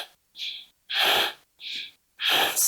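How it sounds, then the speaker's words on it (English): Deep yoga breaths during a power yoga flow alternate in and out: four strong, close, airy breaths separated by brief silences, the longer exhales rougher and fuller than the inhales. "breathing in and out."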